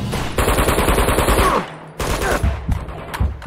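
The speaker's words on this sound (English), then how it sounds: "Okay, who's shooting me?" Automatic gunfire in Uncharted 2: Among Thieves comes in two loud, rattling bursts, a longer one followed by a shorter one after a brief gap, with scattered impact sounds.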